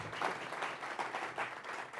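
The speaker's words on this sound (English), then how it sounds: "would you give Ann a round of applause for all that she does?" An audience at a tribute program for Dr. Freeman Hrabowski claps for Ann, moderately loud and evenly paced, with no voice over it.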